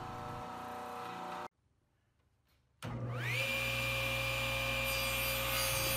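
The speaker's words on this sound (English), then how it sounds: "sand down the end of the screw here so that it will fit inside of the clamping pad" A power sander works the end of a wooden clamp screw for a deep-reach all-wood C clamp, a steady loud whine that cuts out for over a second and then restarts at full strength.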